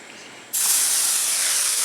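Cooking oil hits a hot plow disk grill and breaks into a sudden loud, steady hiss after a brief quieter moment, sustaining evenly to the end.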